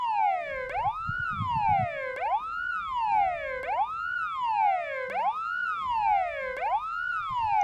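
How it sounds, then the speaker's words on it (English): A loud electronic police siren in a video game, Arma Reforger, wails in rapid repeating rising and falling sweeps, about every second and a half, clear and close. "When you turn the siren on,"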